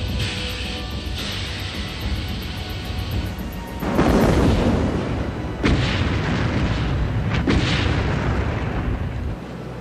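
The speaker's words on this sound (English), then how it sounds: "Two British merchant ships exploded and disappeared beneath the waves" Deep, rumbling explosions as British merchant ships torpedoed by a U-boat burst out one after another, with a heavy boom followed by two sharper blasts over a roaring, sustained din.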